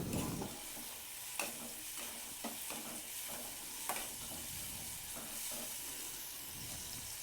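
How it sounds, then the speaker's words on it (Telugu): Tamarind mixture with salt simmering in a pan, a soft steady bubbling hiss with a few faint taps of a spoon, low and even throughout. "ఇలా ఉడుకుతూ ఉంది కదా"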